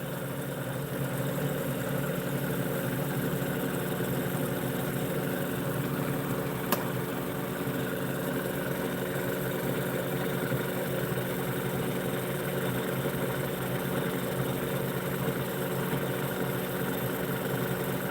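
A pulse motor with a magnet rotor and dual 90° drive coils runs at a steady speed, giving a continuous humming whine with stable tones and an even mechanical buzz, close and unchanging throughout, with no talk.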